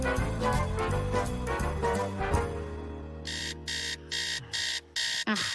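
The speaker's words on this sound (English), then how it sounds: "Didn't you hear the alarm?" An alarm clock in a Family Guy cartoon rings in five sharp, evenly spaced bursts after a stretch of cartoon music fades out, loud and close with no talk over it.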